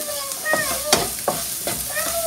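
Onions sautéing with a little salt in a pan, prepared as a filling for vegetable puffs: a steady close sizzle broken by several distinct stirring scrapes of a spoon, with no talking.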